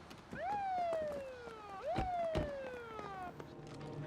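A police car siren sounds as the car pulls into an apartment complex, its wail rising and falling in two long, clear sweeps, moderately loud and close.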